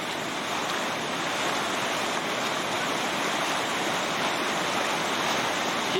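Flowing water tumbling over a waterfall, a loud, steady, broadband rush that stays even throughout with no voices over it.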